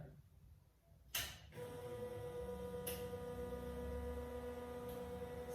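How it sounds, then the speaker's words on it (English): A screen printing dryer switches on with a soft click about a second in, then runs as a steady, close electrical hum with a faint whine, continuing evenly to the end. "I'm gonna switch on the dryer."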